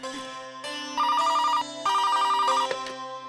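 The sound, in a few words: telephone ringing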